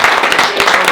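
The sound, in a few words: audience applause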